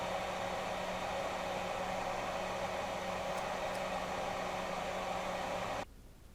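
A hot air nozzle blows steadily during repair of an analog oven thermostat, a constant close airy whoosh that stops abruptly near the end.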